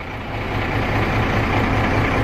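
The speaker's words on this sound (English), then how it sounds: "hopefully you guys can hear me over the noise of the truck" A Kenworth T300 truck engine idles loudly and steadily up close, a dense continuous rumble filling the whole clip with no break.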